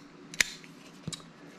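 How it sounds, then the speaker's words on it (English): A pocket knife slices open a cardboard box with two quick, sharp cuts, close by in a quiet room. "So let's cut this box open."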